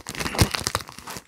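Plastic bag packaging crinkles and crackles while yarn is unpacked from an online order, a close, busy rustle of rapid small crackles over about a second.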